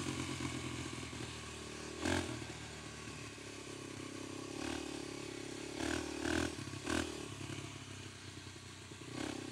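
A Kawasaki KLX300 dual-sport motorcycle on a test ride with no secondary plate, its engine humming steadily with several short throttle blips and some rattling, heard from close by.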